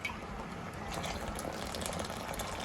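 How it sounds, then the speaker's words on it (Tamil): Mixed cornflour poured into a pot of mango pudding, a steady close liquid pour with soft bubbling and splashing throughout, no talk. "கலக்கி வச்ச கார்ன்ஃப்ளவர் ஊற்றிடலாம்."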